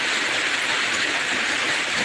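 Heavy rain drums on a house roof at night in a dense, steady hiss that fills the whole clip without pause.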